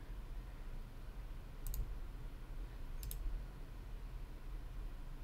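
Two crisp mouse clicks in FL Studio, spaced about a second and a half apart, over a steady low hum and faint hiss with no voices.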